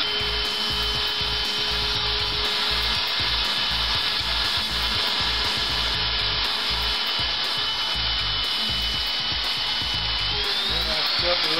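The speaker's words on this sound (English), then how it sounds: "straight mortising bit, and I've got my guide set up to stop it both ways, and I'm just going to push it up to the fence, and it'll cut that little slot for me." A router fitted with a straight mortising bit cuts a small slot in wood against a fence guide: a steady, loud, high-pitched motor whine with grinding cutting noise throughout.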